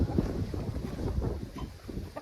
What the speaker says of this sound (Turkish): Şu an çok fazla rüzgar var.